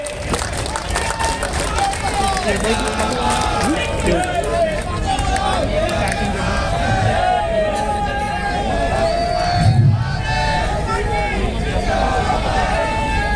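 A large crowd at a Congress Jan Aakrosh Yatra political rally in Gujarat gives a sustained, loud round of applause and cheering, with dense crowd hubbub and voices running throughout.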